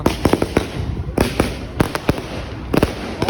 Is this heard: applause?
no